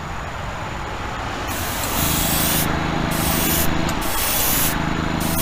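A spray gun lays light base coats on a custom Chevy Impala body, hissing in repeated bursts with brief pauses over a constant low compressor hum, close and continuous.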